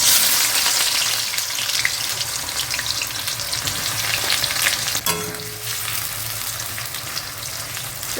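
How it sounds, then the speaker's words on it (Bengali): Onions fry in hot oil in a kadai, browning deeply for biryani, with a loud, dense, continuous sizzle and occasional stirring scrapes up close, no speech. "পেঁয়াজগুলিকে একদম লাল লাল করে ভাজতে হবে।"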